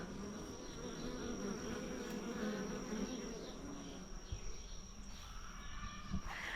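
Honeybees hover around a backyard hive on a warm day, making a dense, continuous buzzing hum at moderate distance. Insect and bird sounds sit faintly in the background.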